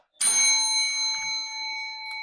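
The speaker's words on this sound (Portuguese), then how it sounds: "Essa é a minha campainha." A desk bell is struck once by hand in a quiet home office, giving a bright metallic ding with clear ringing overtones that decay slowly over about two seconds.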